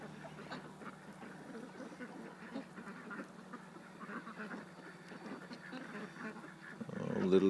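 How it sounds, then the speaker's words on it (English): Ducks returning home at day's end quack in a steady, fairly close chorus, with a louder, denser burst of calls near the very end. "Oh, little ducks coming home."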